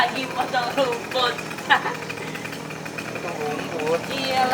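A small grass cutter engine drones steadily in the background while people talk close by over it.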